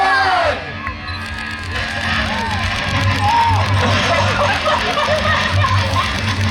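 A loud, excited crowd yells and whoops together, with rising shrieks and cheers blending into a continuous roar.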